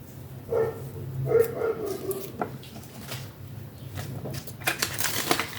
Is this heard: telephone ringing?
no